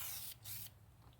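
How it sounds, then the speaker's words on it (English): Spray lubricant from an aerosol can hits the chain of a Harbor Freight Bauer 20-volt cordless chainsaw in two quick, close bursts of hiss, each about a third of a second long, with a low hum beneath them. "Usually I'll take some kind of spray lubricant and just"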